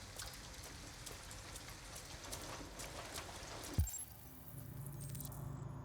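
Faint, steady rain patters throughout a scene in the video game Detroit: Become Human, with one brief low thump partway through.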